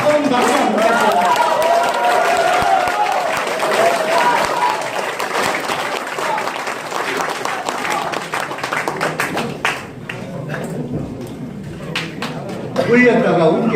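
Applause at a local election candidate's campaign office opening, with a sustained crowd clapping loudly and evenly, then thinning into scattered individual claps, with voices heard over it.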